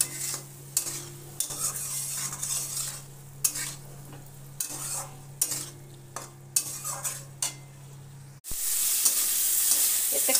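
A ground paste of cumin, mustard, green chili and ginger fries in hot oil as a spoon stirs it through the pan, with steady sizzling and scraping strokes. Near the end a louder, brighter hiss flares up.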